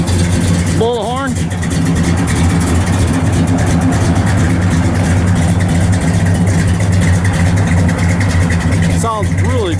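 A 1965 Pontiac GTO LeMans engine rumbles loudly through its dual exhaust, heard from the back of the car with a steady low idle throughout and short sweeping tones near the start and end.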